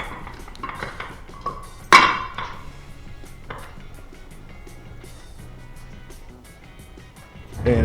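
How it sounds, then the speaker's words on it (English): Factory tail housing fitted onto a Powerglide transmission for an Olds Cutlass, with sharp metallic clanks and knocks of cast parts, one loud clang standing out among lighter taps over a quiet workshop background. "Factory tail housing going back on."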